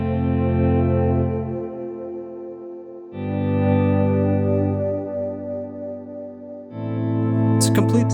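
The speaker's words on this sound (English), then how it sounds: "if I substitute it with, let's say, some spring reverb" An ambient electric guitar swells through spring reverb in three long sustained chords, each blooming and decaying into a shimmering tail, loud and alone.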